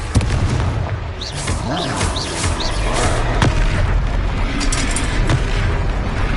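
Confringo fire spell blasting during a fight in the game Hogwarts Legacy, a dense continuous roar of explosive booms and rumble under game music, loud throughout.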